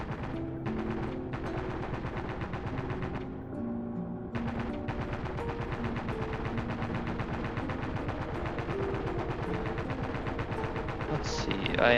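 Rapid, continuous weapon fire from a game built in the Godot engine, a dense mechanical rattle running almost unbroken for the whole stretch, with only brief pauses near the start.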